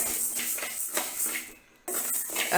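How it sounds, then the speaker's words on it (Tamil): Whole urad dal roasts in a pan for idli podi, giving a scratchy, sizzling rustle with light scraping, which briefly stops before resuming. "இப்போது நம்ம சாதா இட்லி பொடிக்கு உளுந்து வறுத்துட்ருக்கோம்"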